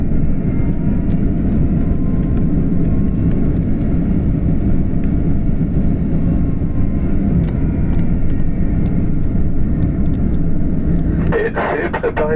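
Airliner engines hum as a steady, loud cabin drone during the landing approach to Ivato airport, Antananarivo, with a brief rattling clatter near the end.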